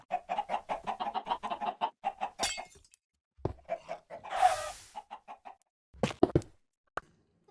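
A chicken from A Minecraft Movie clucks in a quick run of repeated short notes, followed by a few sharper squawks, a fluttery burst and some knocks, close and clear with no talking.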